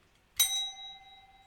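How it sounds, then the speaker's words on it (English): A single bell is struck once to cue a Latin lesson drill, a bright close ding that rings on with a sustained, slowly fading tone in otherwise quiet surroundings. "I ring the bell"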